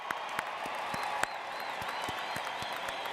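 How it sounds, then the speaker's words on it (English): Graduates at a UTSA spring commencement ceremony applaud their families and friends, a steady wash of crowd clapping in a large hall, fairly quiet and distant, with a few sharper louder claps standing out. "Graduates, let's give your families and friends a huge round of applause."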